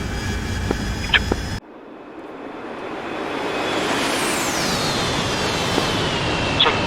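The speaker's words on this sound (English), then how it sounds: "I'm going to punch the power up a bit and get some altitude to try and save some gas" Early on, a few gunshots ring out. Then the aircraft engine in the DCS flight simulator game powers up, and its steady roar swells louder, with a whining tone that sweeps in pitch.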